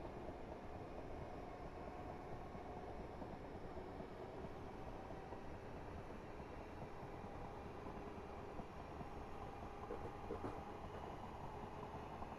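A train in the Train Simulator game, on the Hampton Court to London Waterloo route via Vauxhall, rolls over points with a continuous quiet rumble and faint rhythmic rail clatter, steady throughout with no talking.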